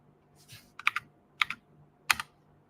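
Short bursts of keystrokes on a computer keyboard as someone types into a terminal, three or four quick clusters of clicks, close and clear in an otherwise quiet room.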